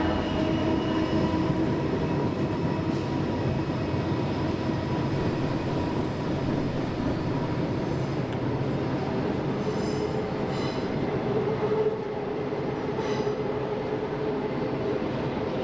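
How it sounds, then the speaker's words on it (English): A train rumbles past steadily and close, with wheels squealing and clattering along the rails, continuous and loud with no talking. "there's already been 4 trains go past"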